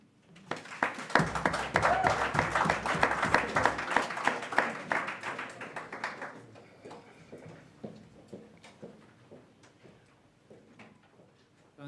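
Audience applause swells and fades, dense clapping that thins out to scattered claps before stopping.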